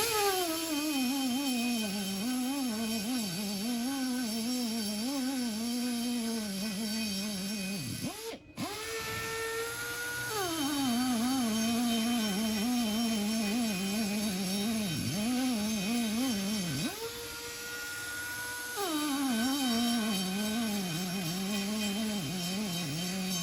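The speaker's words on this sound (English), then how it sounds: "just taking off the remainder of the weld lip from when the converter was originally" Steady, loud grinding removes the leftover weld lip from a torque converter, a continuous close whine that wavers in pitch and pauses twice briefly, with no talk.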